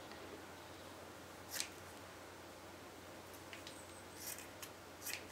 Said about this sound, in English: you find the seam and you cut the seam